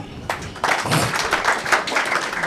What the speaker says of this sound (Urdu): ان کے لیے تالیاں بجائیں